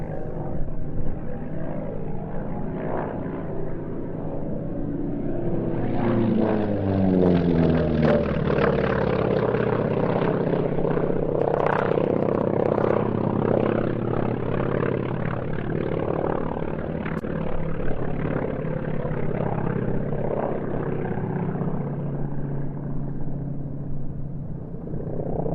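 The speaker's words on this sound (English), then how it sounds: "The Wildcat now in front of us, without question one of the greatest carrier-borne fighter aircraft of all time." A Grumman Wildcat propeller fighter flies past at the Duxford airshow, its piston engine droning loud and continuous, rising and shifting in pitch as it sweeps by, with no talk over it.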